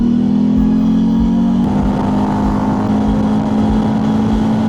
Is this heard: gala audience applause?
no